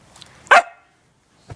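One sharp, close dog bark stands out clearly, followed by silence and a faint short thump near the end, with no talking.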